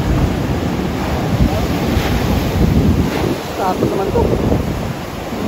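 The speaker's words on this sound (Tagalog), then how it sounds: "Lakas ang alon." Strong ocean waves break and surge at a beach in Morong, Bataan, a loud continuous roar with heavy wind buffeting the microphone, while a person speaks briefly over it.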